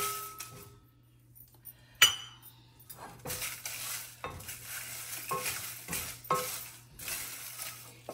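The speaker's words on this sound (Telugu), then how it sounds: "తర్వాత ఎండుమిర్చి కూడా డ్రై రోస్ట్ చేయాలి" Red chillies dry roasted in a pan rattle and scrape as they are stirred, in a steady rhythm of dry clatter with a sharp knock early on. A low constant hum runs underneath throughout.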